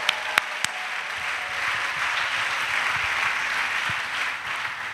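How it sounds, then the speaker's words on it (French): A church congregation applauds steadily with dense clapping at a missionaries' retreat in Côte d'Ivoire, a few sharp claps standing out at the start, moderately loud and continuous. "Acclamons Jésus-Christ."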